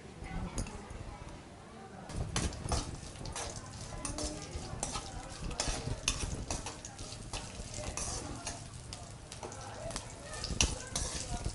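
Sliced onions frying in a pan while being stirred, a faint sizzle under repeated scraping and clinks of a utensil against the pan, with people talking over it.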